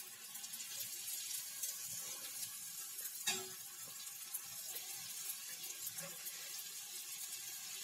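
Puris for golgappa shells sizzle and crackle steadily in hot oil, a continuous close frying hiss with a few brief spatters and bubbling pops.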